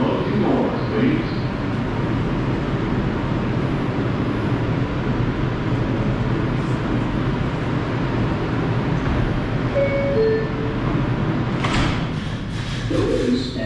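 Steady loud rumble from inside an R142 subway car on the 5 train, wheels and motors roaring continuously, with a few short squeaks, a thump and brighter high hiss near the end.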